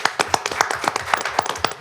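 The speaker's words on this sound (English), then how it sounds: "give them a round of applause" A small audience at a college board of trustees workshop claps for the board, a sparse, close, fairly loud run of individual handclaps with an uneven rhythm and no talking.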